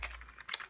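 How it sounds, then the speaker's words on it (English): Packaging rustling during an unboxing of planner add-ons such as flags and tags: a short, close burst of crinkly paper or plastic, a few soft scratchy crackles, no voices. "sorry for the rustling"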